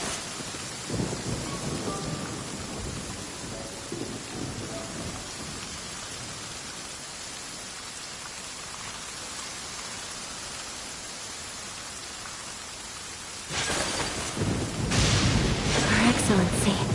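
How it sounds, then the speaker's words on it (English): Steady rain hisses throughout a Genshin Impact scene, with a burst of thunder crashing in near the end and faint game voices under the downpour. "Come with me. Let us find shelter from the rain."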